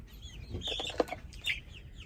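Golden lace Wyandotte chickens in an integration pen making soft clucks and a few brief chirpy calls, near and fairly quiet with no talk.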